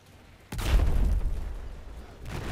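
A deep explosion booms in Battlefield 4 multiplayer, a heavy rumbling blast that swells suddenly and lingers with a low tail, followed by a fainter burst near the end.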